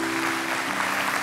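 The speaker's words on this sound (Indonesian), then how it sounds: "Kasih tepuk tangan buat Tuhan." Brief burst of church congregation applause during an Indonesian sermon, dense and continuous clapping with a steady low hum from the room's sound system underneath.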